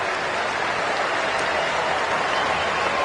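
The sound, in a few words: sympathetic crowd applause at a rugby sevens match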